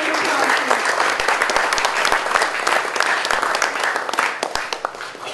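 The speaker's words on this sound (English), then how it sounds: "Can we get a round of applause?" An audience at an America Nepal Chamber of Commerce event in Los Angeles applauds the Ambassador of Nepal to the USA, a dense, steady round of clapping from many hands that holds strong throughout.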